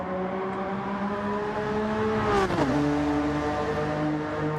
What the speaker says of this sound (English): Are the cars too loud?